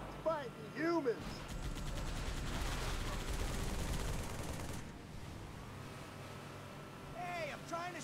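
Gunfire from the video game Halo 3: ODST, a sustained burst of rapid shots lasting several seconds amid game effects, with voices chattering before and after.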